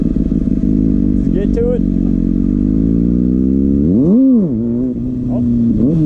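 Kawasaki Ninja ZX-6R motorcycle engine, recorded while riding and practicing wheelies, holds a steady loud drone, then revs up and falls back near the end. One rider speaks briefly over it.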